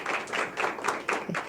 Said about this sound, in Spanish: les agradecería un fuerte aplauso a nuestras enfermeras